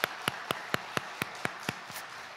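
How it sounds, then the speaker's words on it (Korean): A church congregation applauding, heard as a quiet, even patter of about nine distinct claps in steady rhythm that fade out toward the end, with no talking over them. "우리 큰 박수로 환영합니다."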